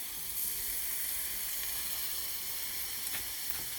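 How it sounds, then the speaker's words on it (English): Stock poured into the hot skillet used for crispy fish fillets sizzles steadily, a continuous close-up hiss with a brief stronger flare near the end and no talking. "Now I use the same skillet and I drop in my stock"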